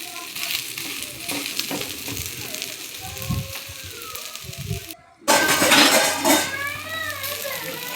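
A ragi and moong dal dosa with oil sprinkled over it sizzles on a pan, mixed with clinks of utensils and a brief cut before a louder burst of frying, with a voice speaking over parts of it.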